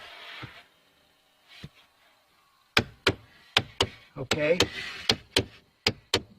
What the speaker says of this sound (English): that's the recirculation air door right there. And you can see it kind of jumping. So that's what's making the noise.